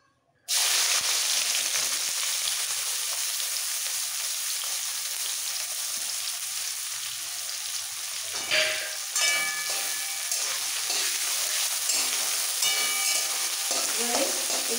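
Chopped medium-sized onions fry in oil over a high flame with a bay leaf, a loud steady sizzle running throughout, broken by scraping stirs partway through.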